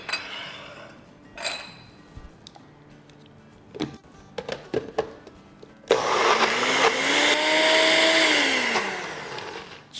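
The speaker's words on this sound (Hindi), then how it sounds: "और इसको ब्लेंड कर लेंगे" Kitchen blender grinding a chutney with salt and roasted cumin: after a few clinks and taps of utensils and dishes, the motor starts loudly and whirs steadily with a rising then falling pitch for about four seconds, no talk.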